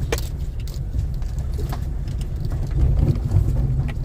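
A car being driven out along a narrow road near a market area in Mahabaleshwar: a steady low engine rumble from inside the vehicle, with scattered clicks and rattles and a slight swell toward the end.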